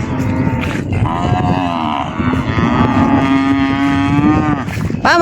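A mother cow on a farm in El Salvador lets out a long, loud, drawn-out moo calling for her calf, close by and unbroken for several seconds.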